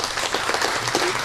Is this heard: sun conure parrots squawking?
no